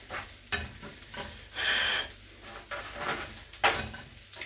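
Minced meat patties (Hacksteaks) sizzle and fry in a hot pan, with a steady crackle and a few louder bursts as they are stirred and turned, no talking.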